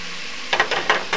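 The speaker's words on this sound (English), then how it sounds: "while the mushrooms are browning, you're going to need to keep a lid on it." Mushrooms browning in a hot pan give a few short, close bursts of sizzling and stirring after a quiet start, with no talk.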